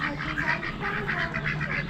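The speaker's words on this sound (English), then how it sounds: "Ducks with a Muscovy." Ducks, one of them a Muscovy, quack in a steady run of repeated calls at an Amish animal auction, close and continuous over a low background hum.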